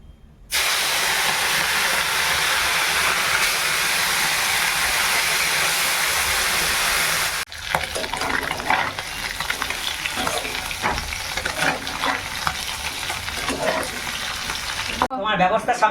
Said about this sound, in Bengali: এবার এই পুঁটি মাছগুলো ভাজবো